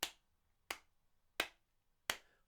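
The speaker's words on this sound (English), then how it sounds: "I'm going to be clapping in crotchets" Four single hand claps spaced evenly at a slow, steady beat, each crisp and close, with near silence between them.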